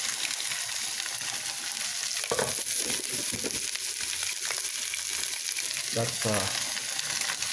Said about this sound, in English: let it fry down a little